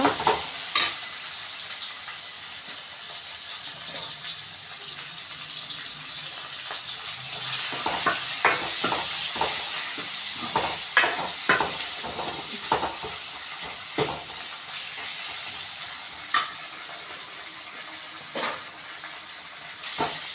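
Onion, tomato, coriander and curry leaves sautéing in a pan for Tamil fish curry (meen kulambu), a steady close sizzle broken by repeated sharp scrapes and stirs of a spoon against the pan, no voices.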